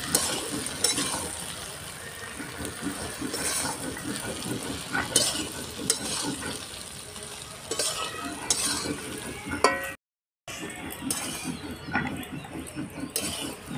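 Jujube pickle with salt and turmeric fries in a pan, a steady close sizzle under repeated scraping and stirring clatter, with a brief dropout near the end.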